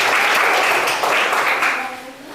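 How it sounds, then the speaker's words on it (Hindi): Applause in a Hindi writing class, a loud burst of clapping from a group that holds steady and then begins to thin out toward the end. "इसके लिए भी एक जोरदार ताली होना चाहिए"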